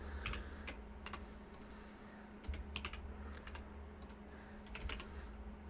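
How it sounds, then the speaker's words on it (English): Computer keyboard being typed on with mouse clicks while entering spreadsheet values, quick clusters of light taps and clicks at an irregular rhythm, faint and close over a low steady hum. "I'm just going to use my keyboard and mouse."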